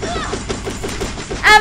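Rapid, evenly spaced video game gunshots rattle in a quick burst, loud and close, ending with a brief sharper sound.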